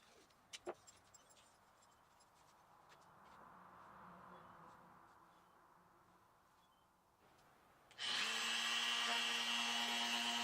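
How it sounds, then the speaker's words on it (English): A router cutting a truss rod channel into a wooden guitar neck blank along a guide fence: faint knocks and handling first, then the router spins up to a loud, steady high whine near the end. "use this guide fence to do the routing for the truss rod channel"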